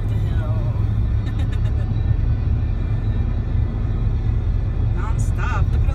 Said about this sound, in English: Non-stop. Look at all those cars.